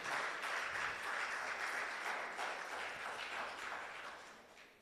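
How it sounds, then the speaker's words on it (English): A regional labour roadshow audience gives the panel a round of applause, steady, moderately distant clapping that thins slightly toward the end, with no talk. "Can we have a round of applause for our panel?"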